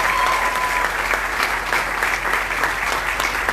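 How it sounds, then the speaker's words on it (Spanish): Crowd applause for Mónica Lorenzo at a mayoral inauguration speech in La Romana, a loud, sustained clapping from many people lasting several seconds. "denme un aplauso"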